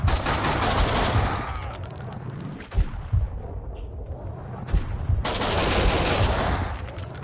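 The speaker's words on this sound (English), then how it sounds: "I can still hear gunshots." Bursts of rapid gunfire in the video game Max Payne 2: The Fall of Max Payne crackle loudly, with a quieter stretch of scattered shots and thumps in the middle before dense firing resumes.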